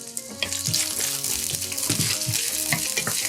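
Garlic fries in a generous pool of oil in a pan, a steady, close crackling sizzle with occasional louder pops and stirring scrapes throughout.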